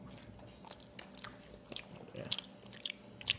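Someone bites into a cooked, crunchy wild mushroom and chews it up close, producing several sharp crisp crunches that come in quick succession, louder toward the end.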